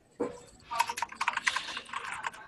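Rapid bursts of clacky keystrokes on a mechanical keyboard ring out close and fairly loud, irregular taps clustering in quick runs after a single opening click.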